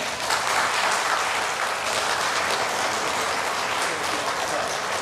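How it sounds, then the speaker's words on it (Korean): A church congregation at a Sunday worship service applauds in a steady, dense wash of clapping that holds evenly for the full five seconds, with no pauses or standout claps. "여러분 박수 주세요."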